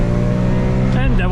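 BMW M3 E46 pulling hard after a standing launch, its engine note rising steadily and loud throughout, with a gear change near the end and a voice speaking over it.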